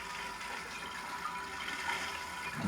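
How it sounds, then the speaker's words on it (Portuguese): Water runs from a hose into a tank as a steady, continuous rushing hiss that swells slightly near the end, with no talking. "tô enchendo d'água"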